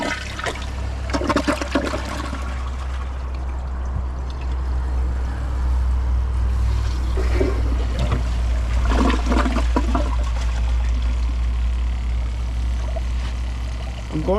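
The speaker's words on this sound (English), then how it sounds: "let's give it a flush and see which one you like better" Two toilets, an AS Champion 4 and a Kohler Highline Arc, flush one after another: a loud, close rush of swirling water with gurgling surges, lasting throughout, faint talk underneath.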